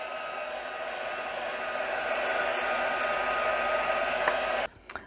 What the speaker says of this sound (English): I'm going to get my heat tool and heat emboss this.